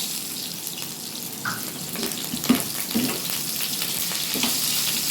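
A sliced potato frying with a little salt in a pan, giving a steady, close hiss of sizzling oil throughout, with a few faint clinks and stirring sounds over the constant frying noise.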